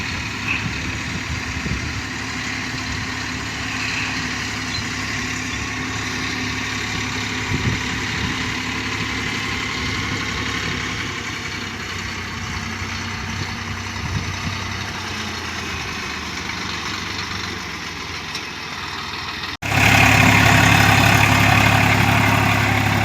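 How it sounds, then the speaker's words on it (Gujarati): A Swaraj 855 tractor engine idles steadily at close range, a continuous low diesel rumble with no talk over it, then the engine note jumps louder and rougher for the last few seconds. "આ ટ્રેક્ટર છે સ્વરાજ 855"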